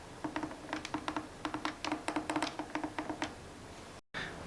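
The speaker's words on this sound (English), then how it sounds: "This is the sound of the function keys." Function keys on a Logitech MK540 keyboard are pressed in a quick series of sharp, close taps, about a dozen and a half clicks over a few seconds, then a brief cut.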